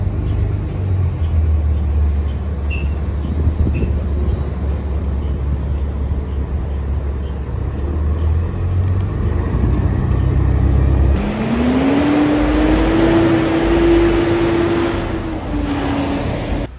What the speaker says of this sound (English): that was a very peaceful bus ride